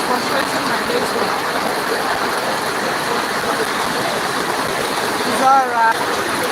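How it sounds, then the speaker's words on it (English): Rain falling outside onto covered goods, a dense steady hiss of water throughout, fairly loud, with a brief clatter near the end. "See what rain is causing my goods outside."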